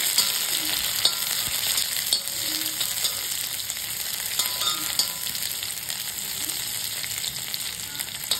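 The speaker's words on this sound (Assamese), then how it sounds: "এতিয়া পিঁয়াজখিনি ফ্ৰাই কৰি লম" Onions sizzle in hot oil for an Assamese smoked eggplant dish, a bright continuous crackle close to the pan with faint stirring clicks and no speech.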